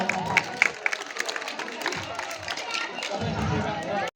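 A crowd at a village social gathering in Mirzapur, India, claps to welcome a guest to the stage, scattered applause mixed with chatter and a voice speaking over it.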